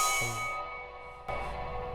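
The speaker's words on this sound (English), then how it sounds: "I just added some snares to kind of complement everything else, and I added an 808 to make it sound like a significant drop" Trap beat in an emotional style, with a short snare roll followed by a deep 808 drop that hits near the end under a fading bright pad, close and moderately loud.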